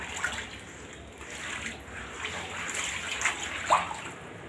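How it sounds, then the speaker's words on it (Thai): Water sloshes and trickles across the floor of a flooded room, a soft continuous wash with occasional small splashes, close by and fairly quiet. "โอ้น้ำท่วมห้องค่ะ"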